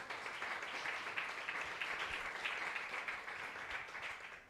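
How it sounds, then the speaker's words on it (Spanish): A church congregation claps for the Lord during a Spanish-language sermon, a sustained and fairly even patter of applause heard from a little distance, with no voices over it. "Dele un aplauso al Señor en esta hora"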